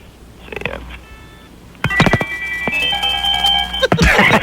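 Cell phone ringing with an electronic melodic ringtone, faint at first and then loud and close, with bright tonal notes and clicks over room noise.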